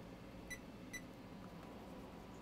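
Multimeter in continuity mode on a graphics card being repaired gives two short, clear beeps about half a second apart against a quiet background hiss.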